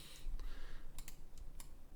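Computer keyboard keys are pressed a few times while someone works in 3D modelling software, giving faint, sparse clicks over a low background hum.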